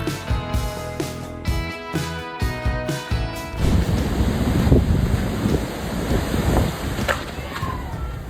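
Fierce ocean surf after Hurricane Erin, the sea that wrecked a wooden staircase down to the water, roars loud and steady with heavy wind buffeting the microphone, preceded by a few seconds of music.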